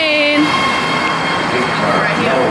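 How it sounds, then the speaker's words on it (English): Passengers board a train, heard as a loud, steady rumble and hiss of rail transport close by, with voices mixed into the constant noise. "We're about to get on the train."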